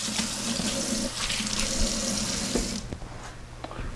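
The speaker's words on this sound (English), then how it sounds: "Let me rinse them out." Tap water gushes into a sink as spoons are rinsed underneath, a loud continuous splashing rush that softens slightly near the end as the flow changes.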